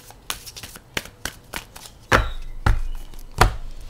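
Tarot cards are shuffled and laid out: a string of light, crisp card taps and flicks, then a few heavier slaps and riffles, close and clear with no talk.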